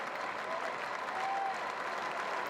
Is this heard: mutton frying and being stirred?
no